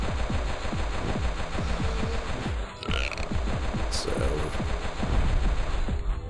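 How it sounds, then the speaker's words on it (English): Dual Uzis fire in a Flash video game featuring Pico, rapid automatic gunshots rattling continuously and loudly over game music and effects. "Pico's brandishing his dual Uzis, which I think he uses a lot with these games"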